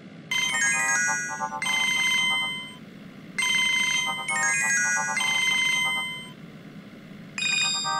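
A phone rings in an animated lesson with a bright electronic ringtone. It plays in several repeated bursts separated by short pauses, clear and alone with no talking.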